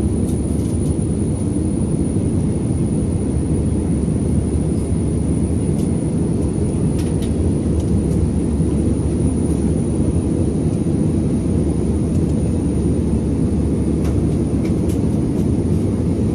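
Small passenger airplane cruising to Boracay, heard from inside the cabin: a loud, steady low-frequency engine and air roar that continues unbroken for the whole stretch, with faint occasional clicks on top.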